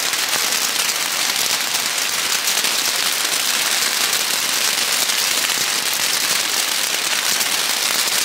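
Heavy rain pours down and drips onto camping gear outdoors during a 24-hour survival challenge, a loud, dense, unbroken hiss that runs steadily throughout with no voices.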